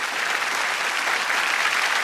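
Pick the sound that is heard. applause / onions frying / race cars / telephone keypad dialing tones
applause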